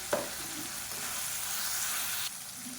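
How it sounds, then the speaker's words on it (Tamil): Onion and tomatoes sautéing with salt and turmeric in a pan for tiffin sambar, giving a steady close sizzle with a brief stir clatter at the start and a sharp drop partway through. "வெங்காயம் லேசாக கண்ணாடி பதம் வதங்கினதை 2 தக்காளி கட் பண்ணதை சேர்த்துக்கலாம்."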